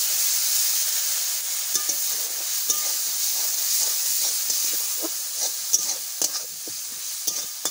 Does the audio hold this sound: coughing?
no